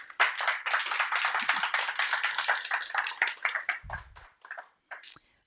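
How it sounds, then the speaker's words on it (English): Audience clapping for a contestant at a sommelier championship, a modest group of hands giving quick, distinct claps that thin out into scattered last claps, with a brief low thump near the end. "Okay, so big applause for Emma."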